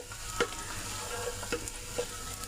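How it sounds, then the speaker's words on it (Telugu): Onions fry in oil for prawn biryani with a steady low sizzle, broken by a few faint scraping stirs at regular intervals, close and fairly quiet, with no voices. "చక్కగా గోల్డెన్ కలర్ వచ్చేంత వరకు ఆనియన్స్ని వేయించుకోవాలి ఆయిల్లో"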